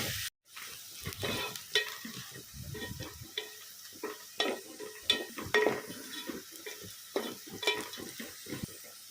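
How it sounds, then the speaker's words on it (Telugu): Onions for biryani fry in oil with a steady crackling sizzle as a spoon repeatedly scrapes and knocks against the pan, near and fairly quiet, with no one talking. "ఆనియన్స్ ఫ్రై అయిపోయాయి"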